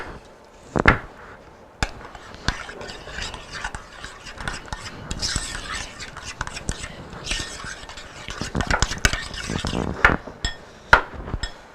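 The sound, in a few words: mixing ingredients in the kitchen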